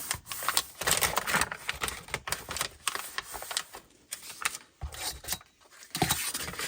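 Paper is creased and folded for a handmade envelope, a dense close run of crackling, rustling and sharp creasing sounds that keeps going without pause, with no talk over it.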